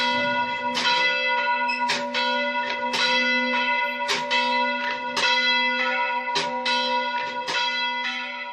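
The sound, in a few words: church bells ringing from a damaged tower in Karakosh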